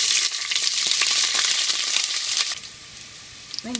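Green chillies and large onions sautéing in a pan for chicken biryani, a loud crackling sizzle with stirring scrapes that drops to a quieter fry partway through, ending with a few clinks.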